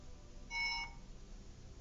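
A phone alarm goes off briefly, a single short electronic tone burst heard faintly under steady room noise, then stops; no speech.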